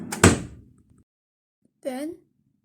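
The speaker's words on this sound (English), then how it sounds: "A drawer slammed shut." A wooden drawer slams shut in a short sharp thump, followed after a pause by a brief rising vocal sound.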